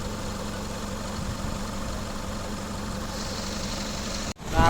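Mitsubishi Lancer Cedia engine idles in a steady, even hum close to the microphone, with no talk, ending in a sudden dip and a brief clunk.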